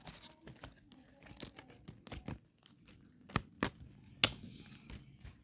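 Football card packs torn open by hand, with crinkly wrapper rustles and several sharp louder rips near the end, heard close up among handling noise and brief speech.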